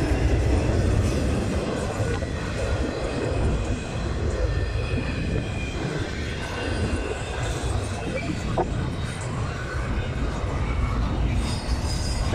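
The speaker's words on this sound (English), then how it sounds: "Look at that line! another intermodal train." A long CN intermodal freight train rumbles steadily past at close range, its rolling wheels and clanking cars forming a continuous loud roar, with occasional faint wheel squeal.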